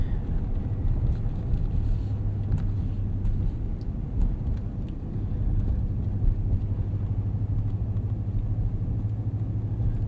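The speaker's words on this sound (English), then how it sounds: "Snow drive in the Ram 1500." A 2018 Ram 1500 Sport Crew Cab 4x4 pickup in four-wheel drive on snowy winter roads, heard from inside the cab: a steady, close low rumble of engine and road noise running unbroken throughout.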